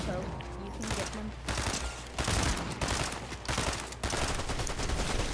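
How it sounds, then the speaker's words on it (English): Gunfire in a video game, rapid bursts and scattered shots running through the whole stretch, fairly loud and dense, with players talking over it. "I'm gonna miss all my shots, but I'm just gonna make them scared."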